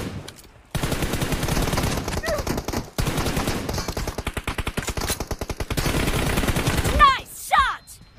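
Rapid automatic gunfire in a mobile shooter video game, loud sustained bursts with brief gaps, firing close, with a voice talking over parts of it.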